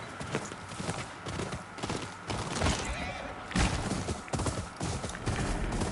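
Horse hooves galloping in Ghost of Yotei, a fast continuous clatter of thudding beats mixed with rushing wind and ambient game noise, close and steady throughout.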